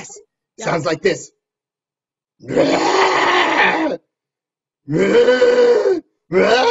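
A voice roars the Happy Birthday tune like a dinosaur, imitating the creature in gravelly, growling bursts sung close and loud, after a short spoken reply at the start.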